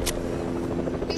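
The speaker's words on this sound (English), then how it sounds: "Okay, there's a chopper." A helicopter in a shooter video game gives a loud, continuous rotor drone with a dense buzzing texture and brief hissy bursts at start and end.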